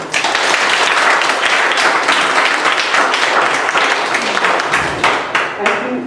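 An audience at the Knoxville Museum of Art breaks into loud, sustained applause to welcome speaker Joanna Higgs, thick clapping that holds steady for several seconds before tapering off near the end.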